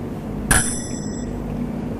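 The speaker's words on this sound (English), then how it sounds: "Then the bells will start again." A single bright ding from a debate timer bell at a Ghana presidential debate. The short, ringing strike fades quickly over a hum of room noise.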